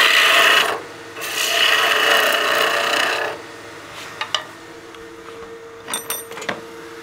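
A woodturning tool cuts a small birdhouse ornament spinning on a lathe, two long, loud rasping passes followed by a quieter hum with a few light taps and scrapes.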